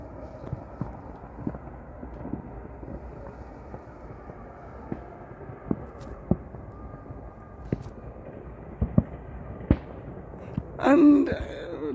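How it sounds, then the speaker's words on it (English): Distant fireworks crackle and pop over a city on bonfire night, scattered faint bangs spaced irregularly against quiet night ambience, ending with a brief louder burst. "There's no spotlight, but you can see some fireworks."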